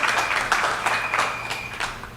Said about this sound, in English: But give them a round of applause for a job well done tonight.